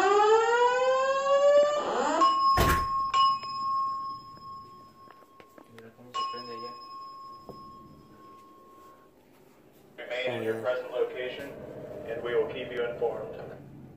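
Hotel room fire alarm going off after a lightning strike: a rising electronic wail settles into steady, loud piercing tones with short bursts, then a voice speaks over a speaker system.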